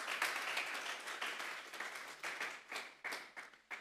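A church congregation applauds, soft and somewhat distant, with clapping that grows into separate bursts of hand claps toward the end.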